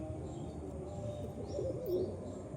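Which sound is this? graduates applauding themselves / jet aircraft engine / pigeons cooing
pigeons cooing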